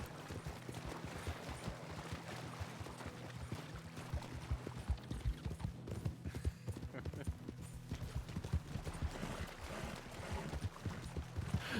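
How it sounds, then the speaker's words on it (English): Energetic horse hooves clip-clop in the RedM video game, with rapid, continuous hoofbeats close by while voices talk faintly underneath. "You have a lot of energy with that horse there, Saffron, huh?"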